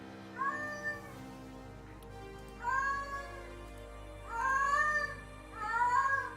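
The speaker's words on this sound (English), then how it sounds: "He's meowing at his reflection in the TV." A pet cat meows four times at its own reflection in a TV, each call drawn out and rising then falling, fairly close with brief pauses between, over a low steady hum.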